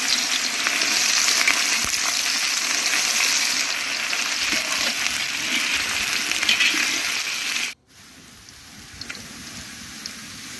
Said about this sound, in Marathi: कांदा कढवण्यासाठी आता आपण तेल टाकू.